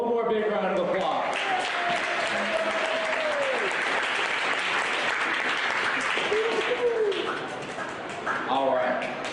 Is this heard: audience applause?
yes